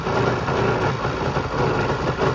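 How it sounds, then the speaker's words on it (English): Jet ski engine running steadily at close range, a continuous rough mechanical drone with no voices. "This ain't your average jet ski, she's a squirter."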